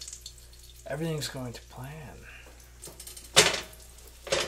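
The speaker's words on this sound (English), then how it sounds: "so you can hear it sizzling" Breaded eggplant slices frying in a pan give a faint, steady sizzle with a few clinks of utensils, mostly under a person talking close by.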